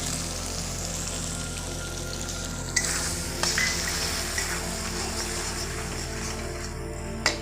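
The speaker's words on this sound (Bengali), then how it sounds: "এই মুহূর্তে গ্যাসের ফ্লেমটা খুব আস্তে দিয়ে ভেজে নিতে হবে।" Jackfruit and liver masala with yogurt frying over a low gas flame, a steady soft sizzle with a low hum and occasional light clicks of stirring.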